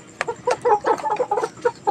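Rhode Island Red chickens clucking on a farm, a quick run of short, close clucks coming in uneven bursts.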